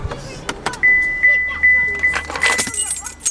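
Car keys jangling as they are pulled from a car, a few short metallic rattles up close, with a repeated electronic chime from the vehicle in the background.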